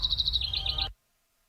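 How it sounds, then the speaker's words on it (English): A bird call sound effect plays in a fast run of high, warbling chirps over a low rumble for under a second, then cuts off abruptly into silence. "It was a bird noise."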